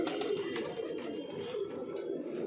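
Pigeons cooing in wooden coop boxes, several low overlapping coos running continuously at moderate distance, with light rustling and faint higher chirps above them.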